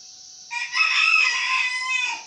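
A brooding hen sitting on eggs gives one sustained, close, harsh vocalisation lasting about two seconds, without talk.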